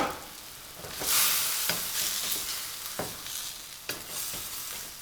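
Eggplant stir-frying with jalapeno and garlic in a hot pan, a bright continuous sizzle broken by repeated scrapes and clacks of a utensil stirring, close up with no talking.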